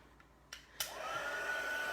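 A heat gun starts up after a couple of soft clicks and settles into a steady, fairly quiet blowing hiss, used to melt embossing powder on a card.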